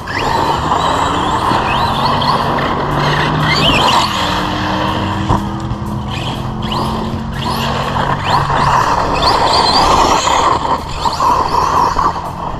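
An Arrma Kraton 4S RC car drives hard around a track, its electric motor whining continuously with tire skids and revving surges, close and loud throughout.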